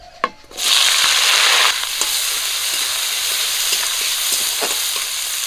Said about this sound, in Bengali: তেলটা গরম হয়ে গেছে দিয়ে দিচ্ছি পেঁয়াজ কুচি কাঁচা লঙ্কা কুচি আর রসুন কুচি